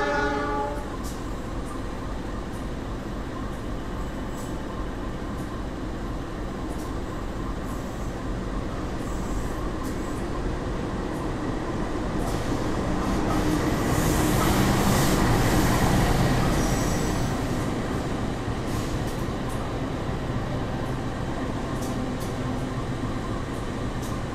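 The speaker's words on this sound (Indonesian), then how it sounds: "Yang baru saja masuk ini adalah kereta api Papandayan dari stasiun Gambir, tujuan stasiun Garut." The Papandayan passenger train from Gambir to Garut rolls into a station: a loud, steady rumble of wheels and carriages with squealing wheels, a horn, and a swelling roar as the cars pass close by midway.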